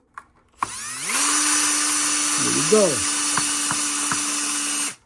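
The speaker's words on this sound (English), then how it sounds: "Get my Milwaukee drill." A Milwaukee power drill drives screws during a 3-way light switch installation, its motor spinning up and holding a steady whine for several seconds with a brief pitch change under load, alongside a few clicks and a short spoken remark.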